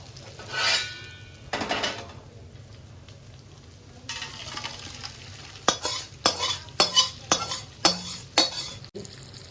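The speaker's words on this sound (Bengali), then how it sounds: "এরপরে মশলাটাকে একটু ভালো করে কষিয়ে নেবো" Spice paste for a fish-head muri ghonto is stirred and sautéed in a cooking pot. A spoon scrapes it in short bursts that settle into a quick, rhythmic run of strokes over a low, steady frying hiss.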